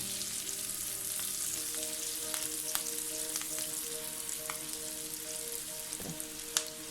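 Round-sliced onions and slit green chillies frying in oil in a pan, a quiet continuous sizzle with scattered light crackles and a spatula scrape near the end.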